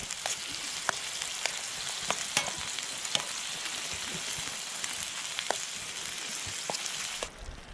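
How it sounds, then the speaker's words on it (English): Food sizzles in a pan at a backcountry fly fishing campsite in New Zealand, a close, steady frying hiss dotted with sharp crackles and pops. "Sizzle time."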